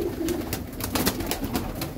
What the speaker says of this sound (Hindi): अब देखते हैं कबूतर खाने आते हैं या नहीं आते